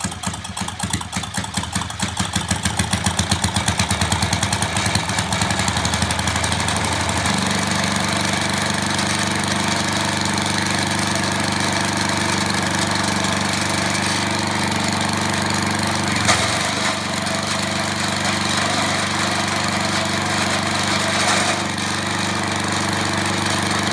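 A 1980s Sears Craftsman snowblower engine starts up and runs loud and close, with rapid machine-gun-like popping at first that settles into a steady, rough, continuous idle for the rest of the stretch.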